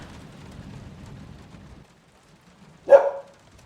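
After a quiet stretch of soft low rumble, a single dog bark in a video game rings out clearly, then silence returns.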